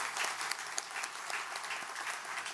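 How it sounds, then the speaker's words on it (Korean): Congregation applauding during a Sunday morning church service, a continuous burst of many hands clapping, fairly loud and even, with no talking over it. "박수."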